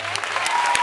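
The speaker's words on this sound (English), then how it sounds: "to clap your hands" An audience claps along to a folk song performed at a Bulgarian gathering, steady crowd applause filling the short moment, dense and close without a clear individual rhythm.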